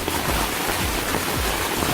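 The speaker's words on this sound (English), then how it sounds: "That rain's coming down pretty good now." Steady, heavy rain falls onto a Zpacks Duplex tent, a dense, close patter on the fabric that stays even throughout.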